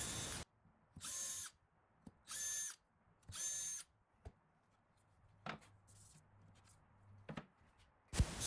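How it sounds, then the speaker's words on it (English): A drill whirs in four short, steady bursts, each about half a second, drilling pilot holes in pieces held in a form, with small clicks and knocks of handling between them, fairly close. "I made a form to hold both pieces while I drill pilot holes"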